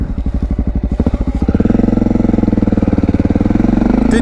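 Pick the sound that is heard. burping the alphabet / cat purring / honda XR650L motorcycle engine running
honda XR650L motorcycle engine running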